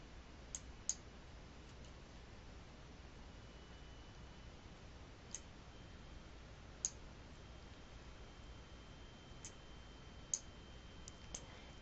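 Sharp, faint computer mouse clicks on software buttons, a scattered handful of single and double clicks close by against a quiet steady background hiss.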